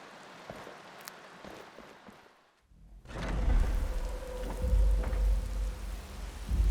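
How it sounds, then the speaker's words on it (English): Steady rain in a video game (Skyrim Special Edition) patters, soft at first, then after a short silence a heavier downpour roars with low rumbling, like thunder, underneath. "And it's still raining."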